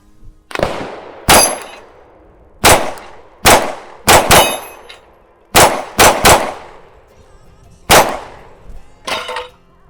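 A Glock 43X pistol with a Shield Arms S15 fifteen-round magazine fires Speer Gold Dot 124-grain hollow points in about eleven sharp, loud shots, some in quick pairs, each ringing off steel with a metallic clang.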